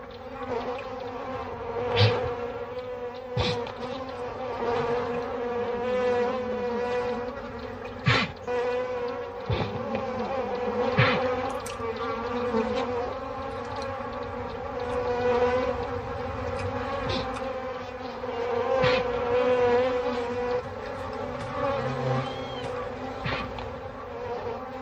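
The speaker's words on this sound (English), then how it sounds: "African bees, like everything else, are desperate for sustenance. They seek out any source of moisture." African bees swarm and buzz continuously in a dry landscape, with a dense, droning hum of many insects close to the microphone and occasional louder individual passes.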